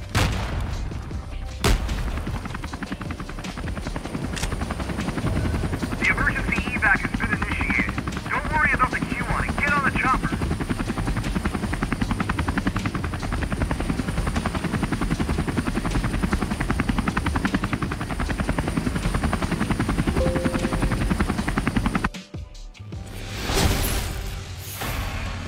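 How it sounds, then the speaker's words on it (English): A Warzone helicopter thrums steadily and loudly as it comes in to land, its rotor drone constant throughout with brief game effects mixed in, then the engine noise cuts out abruptly near the end. "I guess he's just passing time while the helicopter lands."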